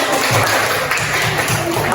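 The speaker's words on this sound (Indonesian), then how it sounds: "Oke, tepuk tangan." A class of schoolchildren clapping together in a steady, close, loud burst of rapid hand claps lasting a couple of seconds.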